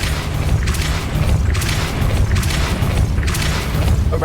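A Depulso spell is cast in Hogwarts Legacy, a deep booming rumble that pulses in three or four swells over a constant low drone, loud and close.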